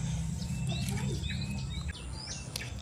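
Birds chirp and call in short, faint rising notes by murky water, scattered over a steady low outdoor rumble, with no talking.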